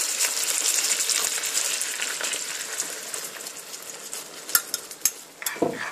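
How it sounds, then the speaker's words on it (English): Steady sizzling and bubbling of creamy tomato sauce simmering around hamburger patties in a pan, with the scrape and clink of a utensil stirring, a few sharper knocks near the end, no voices. "Just going to want to cook it and stir it a bit."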